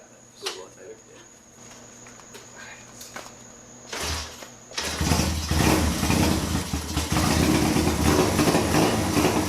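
A motorcycle engine running rich with a fouling cylinder starts after a few short clicks and clunks, then settles into a loud, steady, rough idle close by.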